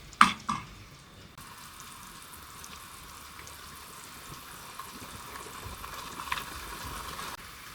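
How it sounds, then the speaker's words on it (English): Sage gently heating in a pan over low heat gives a soft, steady sizzle with faint watery crackle, after a couple of brief clatters at the start; no one speaks. "You're supposed to heat it over low heat for around 2 minutes or until the sage becomes fragrant."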